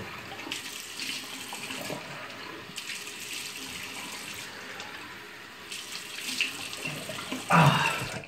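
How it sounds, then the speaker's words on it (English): Hot water runs from a bathroom tap into a sink for face wetting before a shave, a continuous close hiss that swells and changes as hands move through the stream, ending with louder splashing. "I'm just gonna get my face wet with some hot water again."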